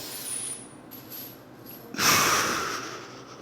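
A lifter breathes in and out while rolling a barbell out and back, with soft airy breaths and one louder, close exhale near the end, with no talking.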